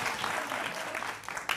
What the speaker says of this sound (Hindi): तालियों के साथ स्वागत करिए भाई